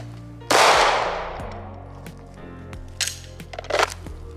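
Handgun shots at a shooting range, one sharp loud report with ringing decay followed by a few quieter clacks and bangs close by, no talking.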